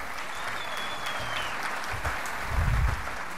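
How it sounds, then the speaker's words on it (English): Audience applause at a family-policy forum: a steady, dense wash of clapping from a large crowd, fairly close, holding even throughout with no talk over it. "So I want to give Bob and his staff another round of applause."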